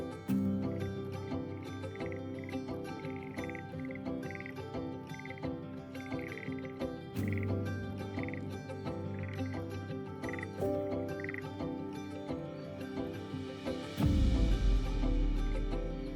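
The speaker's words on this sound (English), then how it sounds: "When spring returns, western toads gather in shallow waters to breed." Western toads calling at a shallow breeding pond in the Eastern Sierra, a steady overlapping chorus of croaks with dense layered calls throughout and a louder burst near the end.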